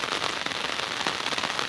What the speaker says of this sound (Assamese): পুৰা বৰষুণ আৰু চাওক কিমান পানী ভাই বৰষুণ